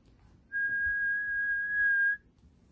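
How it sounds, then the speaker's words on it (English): A single sustained, clear whistle tone rings out for about a second and a half, steady in pitch, over quiet background. "It was a reed whistle."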